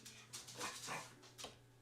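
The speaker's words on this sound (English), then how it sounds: "Dog. Stop." A pet dog whimpers and gives soft, breathy yips at low volume, a few short cries over a constant background hum.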